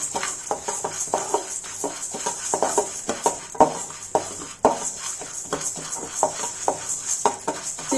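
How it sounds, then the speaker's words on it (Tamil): Horse gram dry roasting in a pan, giving a dense stream of small pops and crackles with occasional sharper snaps over a steady sizzle-like hiss, close and moderately loud, no speech. "கொள்ளு பொரியிற சத்தம் கேட்குது."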